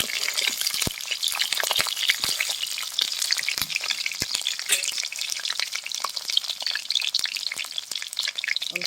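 Pointed gourd pieces fry in oil in a pan, crackling and sputtering continuously with a busy, close sizzle and scattered sharp pops.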